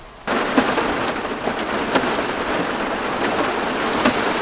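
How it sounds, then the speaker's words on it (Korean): Heavy rain drums on a tarp at a rainy-season car-camping site, a dense, steady close patter with occasional louder gusts and drops, no voices. "바람 진짜 많이 불어."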